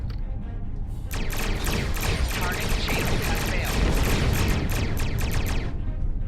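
Starship weapons fire in Star Trek Online makes a loud, continuous barrage of rapid overlapping blasts and bursts that build after a second and run almost unbroken to the end.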